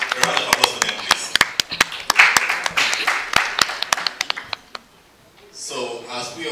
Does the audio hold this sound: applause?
yes